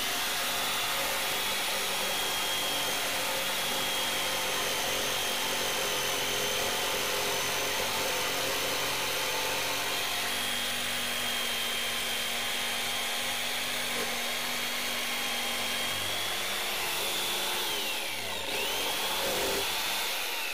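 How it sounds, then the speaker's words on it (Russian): A power saw cuts a kerf in wood during interior work in a timber-frame house, a continuous loud close whine and buzz that holds steady for about twenty seconds with a slight shift in pitch near the end. "Рядом еще пропилю."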